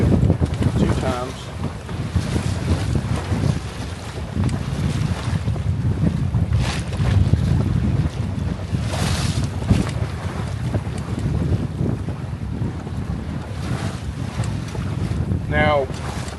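Gusty wind buffets a Catalina 22 sailboat under a single-reefed main on a lake, roaring across the microphone with water sloshing against the hull, loud and continuous with surging gusts; brief faint voice traces.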